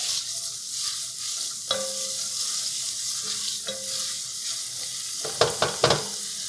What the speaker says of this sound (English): we're gonna go ahead and saute this until this is softened